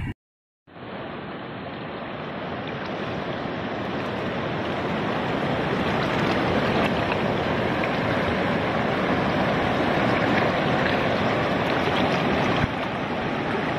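The Chaulani river rushes on without pause, a broad steady roar of flowing water that swells slightly in loudness over time, with no voices.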